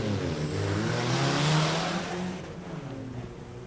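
A supercharged Toyota Tacoma with the TRD package, racing at a 1999 import drag event, accelerates hard with a loud rising engine roar and shifting harmonics that ease off near the end.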